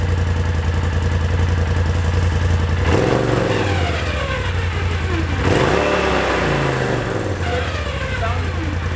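A Polaris RZR XP Turbo engine idles in park, then revs up twice in quick bursts that rise and fall, close by and loud throughout.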